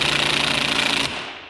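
Impact wrench tightening wheel studs on a RZR 200, a loud, rapid rattling hammer for about a second that cuts off abruptly, leaving a short fading hum.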